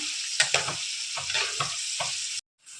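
Tempering spices and garlic fry in hot oil for a tomato pickle, giving a bright, steady sizzle broken by spoon-stirring knocks. The sound cuts out abruptly near the end.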